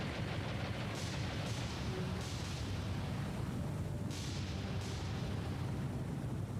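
Enemy heavy cruiser naval gunfire in the War on the Sea video game: several distant booming shots and rumbling blasts arrive every second or two over a continuous low battle drone.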